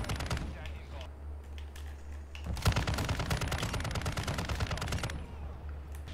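Light machine gun fire in the video game Modern Warfare 2: rapid sustained bursts of gunfire, a shorter spray early then a long continuous stream of shots, with an engine-like game hum underneath and faint voice chatter.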